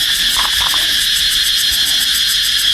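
Loud, dense insect buzzing pulses steadily throughout, a continuous shrill drone like cicadas in full chorus, close and unbroken.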